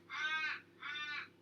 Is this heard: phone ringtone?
no